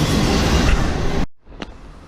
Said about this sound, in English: There's still a train over there.